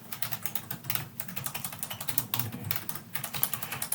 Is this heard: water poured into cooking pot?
no